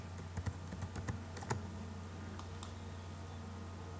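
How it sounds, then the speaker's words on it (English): Quiet, irregular taps of typing on a keyboard for a search in the Flip N Drink iPhone cocktail app, soft clicks scattered over a steady low hum. "You can simply type in your search."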